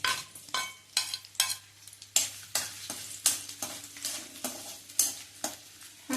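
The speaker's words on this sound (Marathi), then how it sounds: "आता तेल कोमटच झालंय, तर मी ह्यामध्ये हा बारीक चिरलेला कांदा घालते।" Finely chopped onion fries in warm oil in a pan, a soft sizzle broken by repeated loud stirring scrapes in an uneven rhythm, close and alone without speech.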